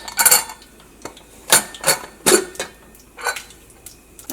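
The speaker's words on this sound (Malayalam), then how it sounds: "നമ്മുടെ കടുക് ഇവിടെ പൊട്ടിക്കൊണ്ടിരിക്കുന്നുണ്ട്" Mustard seeds popping in hot oil in a home kitchen, with close, sharp, irregular crackling bursts coming in clusters with short quiet gaps between them.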